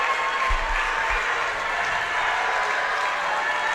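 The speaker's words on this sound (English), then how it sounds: "The lights have gone off and the crowd is loud." A packed high school boys basketball crowd in a darkened gym roars in a dense, sustained wash of noise, loud and unbroken, with a couple of low thumps near the start.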